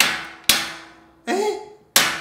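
Hammer blows ring out during a bedroom-to-studio renovation done in industrial style without nailing into walls: three separate strikes, the middle one leaving a sustained metallic clang, with quiet pauses between them.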